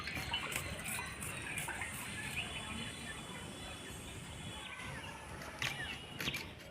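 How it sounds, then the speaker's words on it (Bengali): Small chuno fish being rinsed and soaked in water at home, giving a steady, close splashing and sloshing of water throughout with a few brighter splashes near the end. "দু তিনবার বাড়িতে আগেই ধুয়ে রেখেছি আরও একবার জলে ভিজিয়ে ধুয়ে নিলাম"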